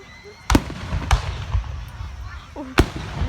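Fireworks in Alice Springs, three sharp booming bangs spaced out over a few seconds, fairly close, with people talking softly between them.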